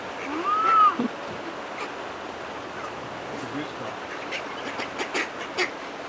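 A man imitates a duck call outdoors at a winery: one short, rising quack-like cry near the start, then steady ambient noise with faint sounds.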